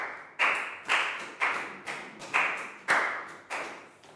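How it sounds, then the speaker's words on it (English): About eight sharp, evenly spaced claps ring out one after another, each decaying quickly, as a primary-school class applauds in a Year 4 science lesson. "Big high five and round of applause for Nadia."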